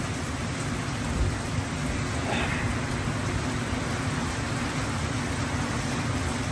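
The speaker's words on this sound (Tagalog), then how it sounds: "kailangan huminto yung ulan nito para makauwi kami" Heavy typhoon rain pours steadily and loudly, a constant dense hiss of water with a faint distant rumble beneath it and no voices.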